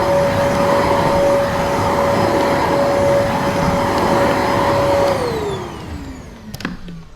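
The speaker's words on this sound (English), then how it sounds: "So you can see the power of the machine helps you wind the cord" A Zero-G F3d floating vacuum cleaner runs with a loud steady whine and roar, then powers down with a falling pitch as its cord is wound, followed by a few faint handling clicks and knocks.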